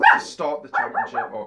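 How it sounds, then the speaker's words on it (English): A pet dog barks and yips indoors, a few short sharp barks mixed in with someone talking over them. "sorry, that's my dog."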